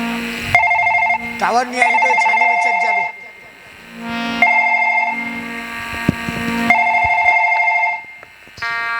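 Telephone ringing after a number is dialled in a Chhattisgarhi nacha-gammat stage comedy, steady electronic ring tones repeating in bursts with brief gaps, mixed with people talking.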